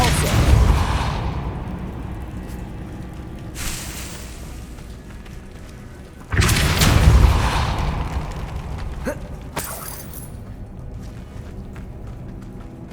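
Depulso spell blasts cast in Hogwarts Legacy: two loud, booming bursts of force a few seconds apart, each swelling and then trailing off into a quieter magical hum.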